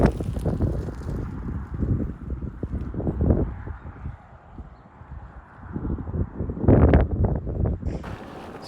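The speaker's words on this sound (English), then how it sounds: "it's 10 degrees Celsius and windy" Gusty wind in the West Texas desert on a cold day buffets the microphone with continuous low rumbling and flutter, swelling and easing, with a few stronger gusts.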